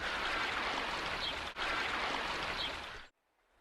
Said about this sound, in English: I'm now up close and personal with the River Tong